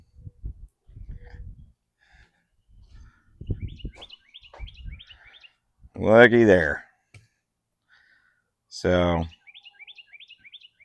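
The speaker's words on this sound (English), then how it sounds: "birds are talking." Small birds chirp outdoors in short, repeated high twittering phrases, fairly faint and intermittent, while someone speaks briefly nearby and there are clicks and handling noises.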